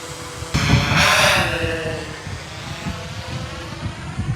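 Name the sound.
DJI Air 3 drone flying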